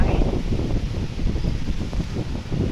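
Strong wind roars steadily against the microphone, a constant low buffeting rumble with gusty rustle and no voices.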